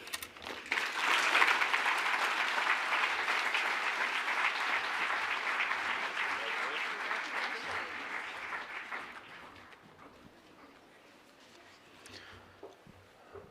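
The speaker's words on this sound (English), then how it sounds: "Another round of applause for sure." Audience at a Waterloo Region Oktoberfest women-of-the-year awards ceremony applauding, a loud sustained burst of clapping that holds steady for several seconds before thinning out and fading to scattered claps.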